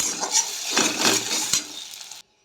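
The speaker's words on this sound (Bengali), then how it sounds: "কড়াইয়ের ভিতরে ডিমটা দিয়ে দিলাম। ডিমটা ঝুরি ভাজা করে নেব ভেজে।" Egg frying in hot oil in a wok with cumin and curry leaves, a loud bright sizzle with scraping stirs for about two seconds before cutting off.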